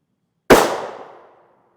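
A rifle round slamming into an Adept Thunder NIJ 07 RF2 / III+ armor plate: one sharp, loud impact crack with a ringing decay of about a second, alone with no talk.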